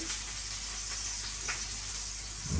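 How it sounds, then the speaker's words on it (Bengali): Chopped onion sizzles steadily in hot oil in a home kitchen, a close, continuous broadband hiss and crackle with no talk over it. "তেল দিয়ে দিছি এখন দিয়ে দিতেছি পেঁয়াজ কুচি"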